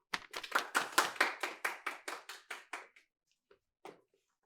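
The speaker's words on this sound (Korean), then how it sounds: "한국 측 대표를 박수로 맞이해 주세요." A small audience at a high school academic debate podium welcomes the Korean-side representative with crisp, close rhythmic clapping, about a dozen regular claps that gradually soften and stop, followed by a couple of stray late claps.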